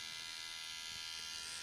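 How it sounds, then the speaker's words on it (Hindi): A Philips Norelco 5000 multigroom trimmer runs with a steady, fairly quiet electric buzz and a bright high whine that continues unbroken, with no talking. "ये चल रहा है ट्रिमर"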